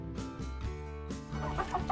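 A chicken clucks in short repeated bursts, close and fairly loud, over a steady musical backdrop.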